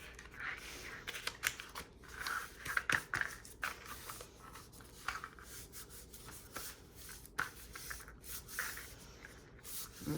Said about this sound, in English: I'm just going to fold it like this